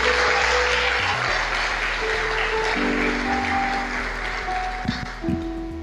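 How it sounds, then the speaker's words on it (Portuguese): A church congregation applauds in a dense, sustained wash of clapping, with held keyboard or organ tones running underneath; the applause tapers slightly toward the end. "Aplauda o Senhor."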